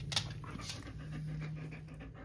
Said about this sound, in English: He's such a good dog.